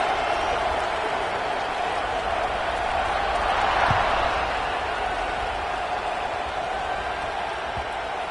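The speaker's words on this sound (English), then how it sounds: "They're set to kick it off, and this crowd now ready to get behind them." Steady roar of a big college football stadium crowd before kickoff, Auburn at Utah, a dense wash of cheering and applause that swells slightly midway and never drops out.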